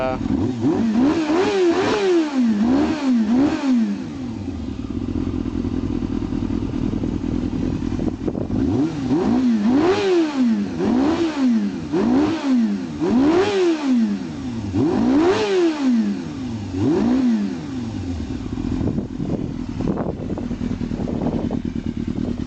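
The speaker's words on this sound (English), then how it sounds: "You can see the pipe isn't super loud, which is kind of nice, but it's got a little burble to it." A 2001 Yamaha YZF600R motorcycle with a Yoshimura slip-on exhaust idles and revs repeatedly, running off choke, rising and falling in pitch with a low burble through the modest pipe, close by and steady.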